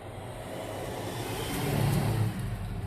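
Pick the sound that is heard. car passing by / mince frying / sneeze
car passing by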